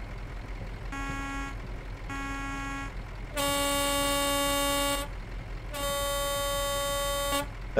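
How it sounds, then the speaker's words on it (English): A truck air horn in Euro Truck Simulator 2 blasts four times: two shorter toots, then two longer, louder blares, with low engine rumble underneath. "Air horn."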